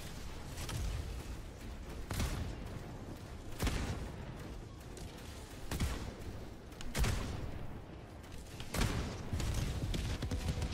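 Dense bursts of gunfire from Helldivers 2 crackle in repeated volleys, loud and close, with sharp impacts every couple of seconds over continuous battle noise.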